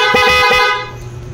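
Stock horn on a Honda Wave 100 motorcycle fitted with a dual horn setup, a loud close-up honk with a few quick pulsing beeps that cuts off and leaves a low idling hum.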